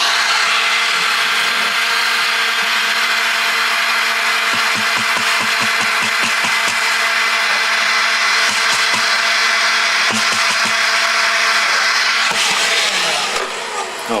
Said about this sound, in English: so then the next step is to use a leaf blower.